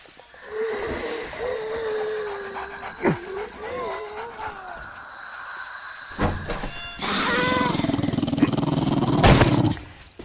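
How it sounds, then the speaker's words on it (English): Feral zombie dogs growl and snarl close by in the survival game 7 Days To Die during a night-time horde attack, rough animal snarls rising in bursts over tense ambient game sound with louder thumps near the end. "We got dogs."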